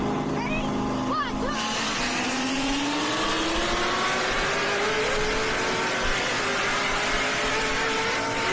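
Several street race cars accelerating hard together in Texas or Mexico, engines rising in pitch through the gears, loud and sustained, heard alongside voices talking.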